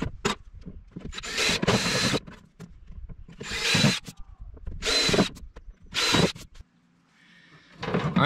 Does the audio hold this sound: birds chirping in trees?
no